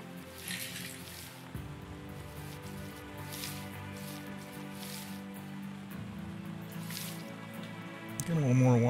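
Water sloshing and dripping in a gold pan in the Gold Rush video game, soft liquid splashes and squishes under steady background music.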